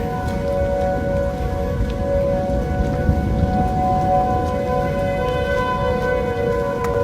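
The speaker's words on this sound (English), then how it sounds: "all the tornado sirens in my neighborhood accidentally harmonized" Several tornado sirens wail together across a neighborhood, their sustained tones layering into a steady chord that holds for the whole stretch over a background of rain-like hiss.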